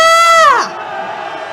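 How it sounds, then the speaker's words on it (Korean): Crowd at a Korean candlelight protest march raising a welcoming shout, one loud sustained collective yell that drops off abruptly into lower, rougher crowd noise, brief and close. "환영의 함성 질러봅시다."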